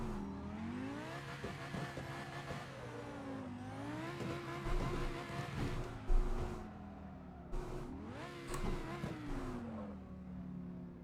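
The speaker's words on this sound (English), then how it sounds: "This one will drift around in fourth gear pretty well." Engine of a car in a drift racing video game, held in fourth gear: a loud, rising and falling rev that swells and dips through the slides, with tyre squeal and brief bumps of impact.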